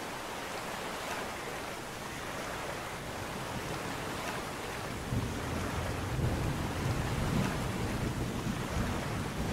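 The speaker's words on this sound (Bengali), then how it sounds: "মাঝ নদীতে আসার পর হঠাৎ করে ঝড় বৃষ্টির দাপট বাড়ে, নদীর জল উত্তাল হয়ে ওঠে" A storm on a river with heavy rain and rough, churning water, a dense continuous roar that swells louder partway through as waves surge, with low rumbling beneath.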